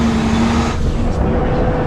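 Trucks driving along a mountain road in northern Pakistan, a steady broadband engine and road rumble with a faint tonal hum, close and continuous throughout.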